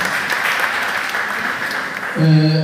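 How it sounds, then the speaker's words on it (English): A crowd at a youth federation event at Koboko Technical Institute claps loudly in a steady burst of applause, then a sustained musical tone cuts in near the end. "please let us clap for Senator Slaughter"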